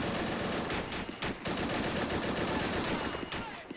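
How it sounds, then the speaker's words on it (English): A Browning machine gun fires in sustained automatic bursts in a war video game, dense and loud with brief gaps between bursts. "I love the sound of a Browning."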